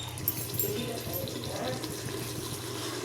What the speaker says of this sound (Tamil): நாலு கப்பு தண்ணி ஊற்றிக்கிடுவோம்